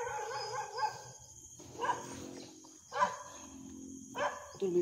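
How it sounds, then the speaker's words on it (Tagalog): A dog barks repeatedly at a distance, four or five separate woofs spaced about a second apart, with quiet background hiss between them. "Yan, may aso."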